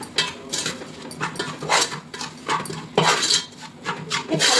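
Spices for paneer biryani stirred together in a bowl with a spoon, giving steady, close clinking and scraping strokes in a repeated rhythm, with no talk.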